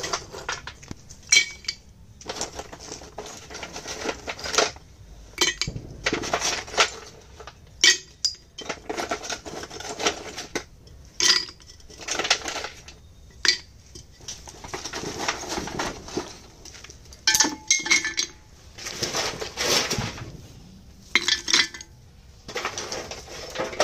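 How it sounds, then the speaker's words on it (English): Broken earthen clay pot pieces handled and clinked together while layering the base of a 12 inch pot for chrysanthemum planting, giving repeated close ceramic clinks and clatters in irregular bursts with brief pauses; birds faintly in the background. "for the planting in 12 inch pot, I am using some of the broken pieces of earthen pots here."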